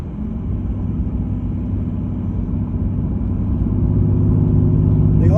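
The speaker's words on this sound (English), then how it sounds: "I'm gonna go ahead and really put the pedal to the metal." A 1989 Chevy Celebrity at full throttle from about 60 mph, its engine a steady, dense drone that slowly grows louder over several seconds with no talk.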